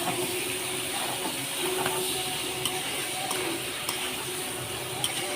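Fried ash gourd stirred in a curry pan over spiced oil, giving a steady broadband sizzle and hiss with faint scattered clinks from the utensil, continuous and moderately loud throughout.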